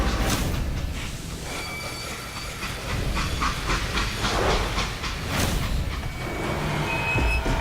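Steam train in the Call of Juarez Gunslinger video game, a continuous loud hiss of steam mixed with rumbling wagons and metallic clanks as it stops, steady throughout with no speech.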